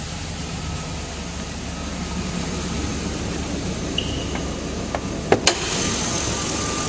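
A 2004 GMC Sierra 2500 extended-cab 4WD gas V8 idles steadily with the hood open, a smooth, even broadband hum with a few faint clicks near the end.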